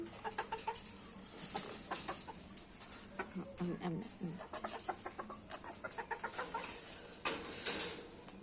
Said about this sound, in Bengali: কয়েকদিন ধরে মুরগিগুলোকে খাবার ঠিক মতো দেওয়া হয়নি